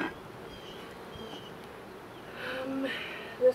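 Honey bees hum in a soft, continuous drone around an open hive during an inspection, steady and close, with a brief louder buzz near the end as a bee passes the microphone.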